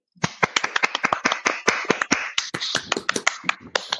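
A single host claps his hands in a quick, irregular run of sharp, loud, close slaps standing in for a round of applause, with no other sounds around them.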